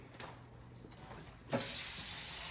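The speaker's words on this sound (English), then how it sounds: "I'm going to put some water in there and we're going to boil it basically" Water runs steadily from a tap into a cooking pot, starting abruptly partway through as a close, even rush that holds to the end, with faint kitchen background before it.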